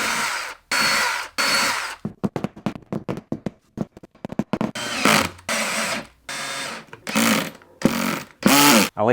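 A power drill drives extra mounting screws while a 40A home wallbox EV charger is being installed. Loud, close whirring bursts repeat with short gaps between them, and a rising whine is heard near the end.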